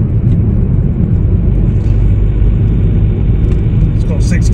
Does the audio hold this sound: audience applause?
no